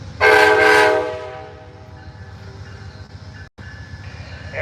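A loud train horn blast opens as Amtrak's California Zephyr, train 5, departs Ottumwa, Iowa, then a steady low rail rumble continues after it.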